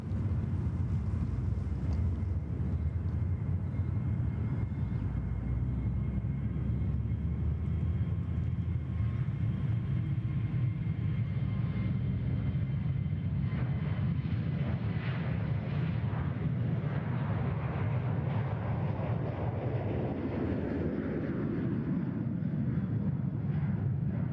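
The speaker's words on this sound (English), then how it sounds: "The 737 off to Brisbane there." A Boeing 737 airliner departing Sydney Airport for Brisbane gives a sustained, loud jet roar with heavy low rumble and wind buffeting, slowly shifting in tone as it climbs away, with no talk.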